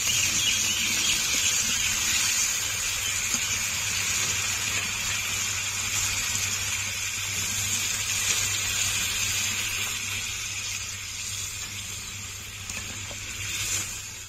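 Water poured into a pan of sizzling, fried-down potato dum sets off a steady hiss and steamy sizzle that holds for several seconds, then slowly eases.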